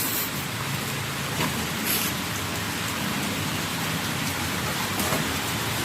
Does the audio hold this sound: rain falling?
yes